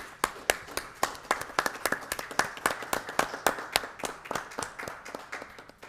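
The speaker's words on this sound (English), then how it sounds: "And I stand up and applaud you." An audience at a fire protection district board meeting applauds firefighters, a single steady run of fairly close, crisp hand claps at an even rhythm, with no talking over it.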